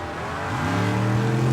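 Big block Chevy drag race cars, a Monte Carlo and a Spitzer chassis car, roar with a loud, steady engine note that climbs in pitch as they pull away on the strip.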